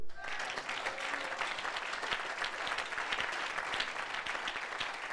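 Church congregation applauding during a sermon: sustained, even applause from many hands, moderately distant, filling the whole five seconds with no break.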